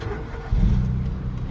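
A car engine being started during a driving lesson, a sudden low rumble catching after a brief quiet moment and settling into a steady idle, close and loud.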